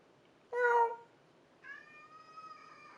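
A cat meows twice nearby, first a short sharp meow, then a longer drawn-out one, in an otherwise quiet room.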